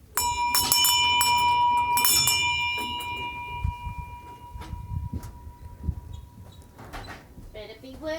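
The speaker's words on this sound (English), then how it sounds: "See, I ring the bell and she comes." A hand bell rings out twice in a sharp, resonant sequence at close range, then its tone fades as footsteps, shuffling and scattered background noises follow, with a voice heard partway through.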